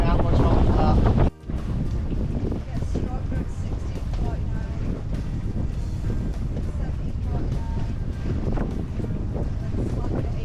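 Steady wind roars around a sailing yacht heading into the Sound of Mull, Scotland, a loud continuous rushing that buffets the microphone, broken by one brief dropout near the start.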